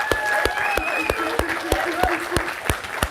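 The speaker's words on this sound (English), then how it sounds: "Can we give him a good round of applause?" A live audience claps to greet a guest at a political debate event, a steady spread of clapping with sharp, evenly spaced claps standing out close by and voices faintly underneath.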